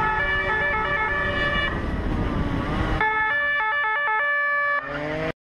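A police siren wails loudly and close, its tones sweeping and then switching to a faster, choppy pattern before cutting off abruptly at the end, heard on a road during a motorcycle ride.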